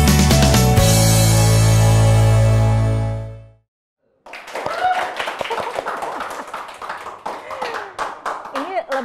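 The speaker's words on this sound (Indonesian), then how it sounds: "Kasih tepuk tangan dulu dong" A studio audience on an Indonesian television talk show bursts into applause after a short pause, a dense, steady patter of many hands clapping close and fairly loud, following a stretch of sustained musical tone.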